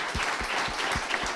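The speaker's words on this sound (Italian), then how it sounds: "qua voglio un grande applauso" Audience applause at a cycling memorial event for Vajont victims, a steady wash of clapping from many hands that holds level for the whole short stretch, close and fairly loud.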